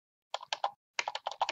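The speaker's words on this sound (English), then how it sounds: "And then you just type in." Keystrokes on a computer keyboard while entering text into a heading in a graphic design tool, coming as a quick burst of three taps, a short pause, then a faster run of close, crisp clicks with no talking.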